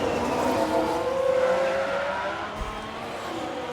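Crash replay in F1 Manager 22 of a single Ferrari in a 1995-season race: loud, steady race car engine noise with tyre squeal and skidding throughout, close and continuous, with no talk.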